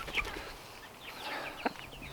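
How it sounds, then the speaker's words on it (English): A backyard chicken in North Idaho clucking close by while pecking at a leg, a few short clucks and a sharp squawk over quiet outdoor background. "got a chicken pecking my leg"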